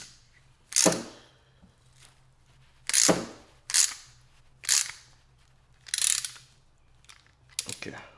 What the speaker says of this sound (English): let me continue with a ratchet wrench actually though